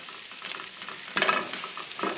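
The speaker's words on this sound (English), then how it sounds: "we're going to cook the garlic cloves for about a minute" Garlic cloves frying in a pan for chicken carbonara, a soft steady sizzle with a short burst of stirring near the middle, no voices.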